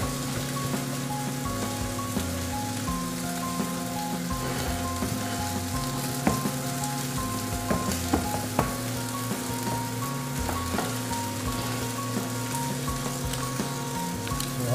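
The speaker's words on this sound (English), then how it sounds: "naantay natin na maluluto ang ating ribeye steak" A ribeye steak sizzling in a hot pan, a steady crackling hiss with scattered pops running continuously under a faint low hum, no talking.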